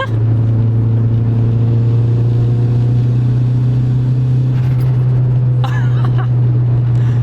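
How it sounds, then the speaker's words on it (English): A boosted Acura RSX Type S with a turbocharged engine drones loudly and steadily with a deep, constant tone, then picks up turbo whooshes and rising rev surges toward the end, heard close from inside the car. "Make more turbo sound."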